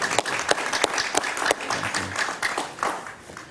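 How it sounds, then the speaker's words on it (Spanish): A live studio audience applauds a guest on a Spanish-language evening talk show, dense continuous clapping from many hands, fairly close and steady throughout with no talking over it. "Un aplauso para mi amigo Frank Mora."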